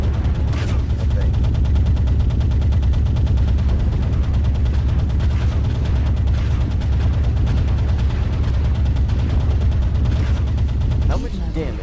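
Machine gun fire from mechs in a video game: a loud, continuous stream of rapid automatic gunfire and explosions lasting the whole stretch, with no talking.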